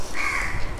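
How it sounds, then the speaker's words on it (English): Crow cawing outdoors, a single harsh, drawn-out caw lasting under a second, moderately loud against faint background noise. "If you hear some background noise, it's the crows and pigeons trying to listen in on our lecture"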